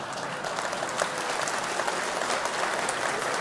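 Applause from the audience at a political leadership hustings in Darlington, a dense, even burst of clapping filling the hall at close range, with no talking over it.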